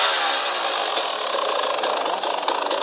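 A KTM EXC 300 two-stroke dirt bike engine running close by, a steady buzzing drone with light throttle blips and rattly ticks, no voices.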